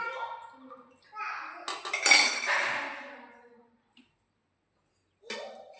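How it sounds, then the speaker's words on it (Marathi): A metal pot set onto a stand inside a pressure cooker, a few short metallic clanks and scrapes close by, with someone talking before and after. "तर मग आता हा टोप आहे ना त्यात ठेवते मी."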